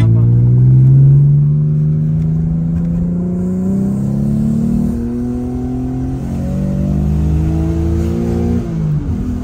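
A 3.2-litre car engine accelerates strongly, its tone rising steadily through the revs and easing back near the end, loud and close with a voice talking over it.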